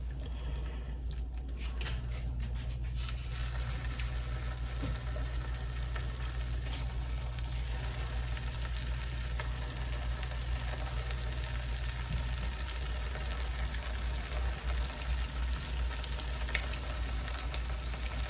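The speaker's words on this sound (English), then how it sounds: "Yeah, it's starting to bubble." Tortilla pieces fry in a hot pan of oil, giving a steady, close, continuous sizzle and fine bubbling crackle that lasts throughout without any talking.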